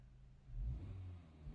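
Car exhaust in comfort mode giving a short, faint low rev that swells and settles within a second and a half, heard with no talking.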